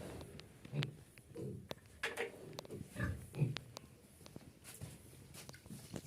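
A pig grunts and snuffles in short, irregular bursts, close by and fairly quiet, with light shuffling and footsteps around it in a pigsty, near a water trough.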